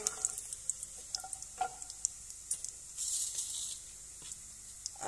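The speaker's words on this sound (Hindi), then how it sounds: "इसमें ऐड कर देंगे जीरा, अच्छे से फ्राई हो जाने देंगे" Cumin seeds frying in hot oil, with sparse crackles and light pops before a denser burst of hissing sizzle midway, fairly faint and close.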